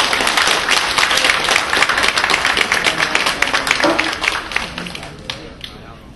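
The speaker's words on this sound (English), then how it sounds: "Let's give them a round of applause." Steady audience applause at a parent and children education club annual meeting, dense clapping, fairly loud, gradually fading toward the end.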